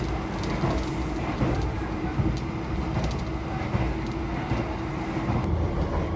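The Argo Cheribon passenger train rolling from Brebes station toward Tegal in Indonesia, with continuous rumble and rattling of carriages and faint rhythmic clatter, heard from on board.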